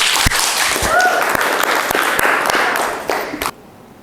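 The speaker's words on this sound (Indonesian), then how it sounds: "Tepuk tangannya dong." Small group clapping at the close of an Indonesian school podcast about students' non-academic achievements, with a few sharp louder claps and faint cheering, fading out near the end.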